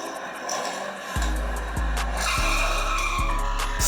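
Hot Wheels diecast Ford and Porsche cars racing down a toy track, a rolling rumble with rhythmic clacks as wheels cross track joints, building steadily and close.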